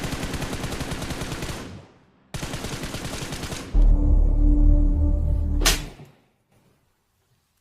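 Rapid automatic bursts from a P90 in the BGMI mobile shooter rattle out in two long sprays, then a heavier, deeper stretch of fire that cuts off into near silence.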